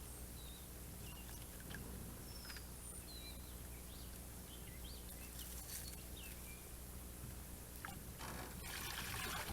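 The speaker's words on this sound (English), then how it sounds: "water's flowing through there, but very slowly." Slow water trickling and dribbling through a ditch outdoors, a faint continuous gurgle with occasional bird chirps in the background.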